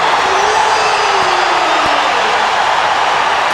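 A crowd roars loudly and steadily throughout a college wrestling match after a takedown by a Hawkeyes wrestler against the national champion, a dense wash of cheering with no clear speech.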